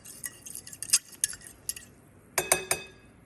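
A metal utensil clinking against a glass bowl while stirring sugar into a yeast mixture for cast iron pizza dough, with a quick run of light, bright taps, a pause, then a few more sharp clinks close by.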